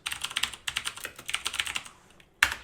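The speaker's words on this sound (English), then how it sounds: "we're going to go to the search bar and type Internet Options" Rapid clicking of a laptop keyboard as a phrase is typed into a search bar, close and clear, in quick bursts of keystrokes with a short pause before a final sharper tap.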